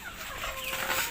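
Chickens cluck softly in a garden at a Kanyakumari farm, a brief burst of faint fowl calls over steady outdoor background noise with no voices.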